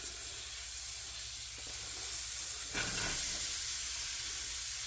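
Roughly chopped onions and jalapenos hiss and sizzle in a hot pan while making chana masala, a steady broadband crackle that swells briefly midway through, with no talking.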